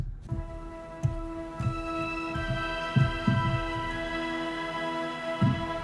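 A sustained, reedy synthesized woodwind chord holds steady while soft, low pulses thump beneath it in an uneven rhythm.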